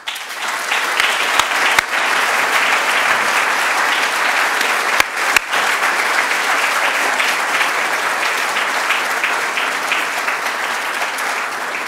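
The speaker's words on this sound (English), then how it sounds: "invite all our speakers to just stand up for another round of applause" Sustained audience applause for the speakers at an anniversary lecture on cancer treatment, a full, even roar of many hands clapping for about twelve seconds, with a few sharp knocks near the start and middle.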